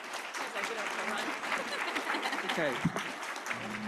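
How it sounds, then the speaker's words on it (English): Conference audience applauding a panel of speakers, a dense steady clapping that fills the whole stretch, with a brief spoken remark from the host over it near the end. "One more round of applause for the panelists."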